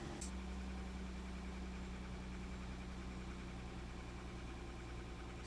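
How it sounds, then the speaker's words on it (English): An Infiniti G35 engine with a Z1 Motorsport intake idles steadily with a low, even rumble and a faint hum, no clear revving, close by and continuous. "We're gonna let it run for a little bit, then I'm gonna give it a couple revs."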